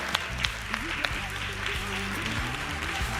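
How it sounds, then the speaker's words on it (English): A community election forum audience claps steadily throughout, a dense patter of applause with a few sharper individual claps standing out, and voices murmuring underneath. "let's clap it up for these folks"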